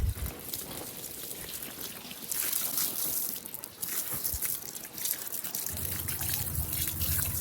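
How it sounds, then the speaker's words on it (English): Water runs and trickles steadily over oysters being rinsed clean at a Florida oyster farm, a continuous close splashing wash that thickens and gushes louder at times. "I'm gonna keep rinsing."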